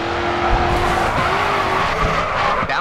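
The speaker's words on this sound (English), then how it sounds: "Continue to turn and the back end will begin to slide out." Car tires squealing in a sustained drift through a corner in the racing game GRID 2, with a loud continuous engine roar underneath and the screech held steady across the slide.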